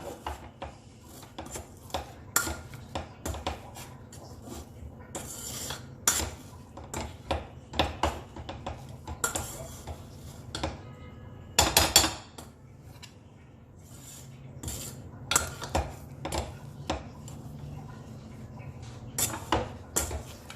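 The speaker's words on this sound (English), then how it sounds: "Just mash it nicely, not really into a paste." Cooked horse gram mashed with a masher, giving a steady series of soft thuds, rasps and rubbing scrapes against the vessel, close and fairly quiet, with brief pauses between strokes.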